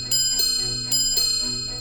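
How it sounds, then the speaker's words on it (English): A Patek Philippe wristwatch alarm sounds as a rapid, buzzy metallic ringing with repeated pulses close to the listener, steady and fairly loud over a faint hum. "Okay, so here's the alarm."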